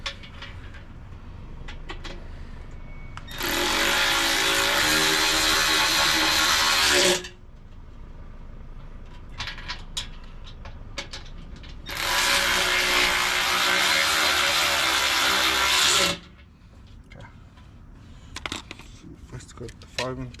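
A power tool tightening side step bracket bolts on a Chevy Colorado, heard as two loud, sustained whirring runs of about four seconds each, separated by quieter clatter and handling noise.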